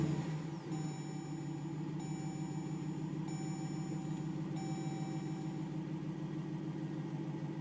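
A 2022 Dodge Durango R/T's 5.7-liter Hemi V8 idles steadily after starting, a low rumbling drone with faint repeated electronic chimes over it.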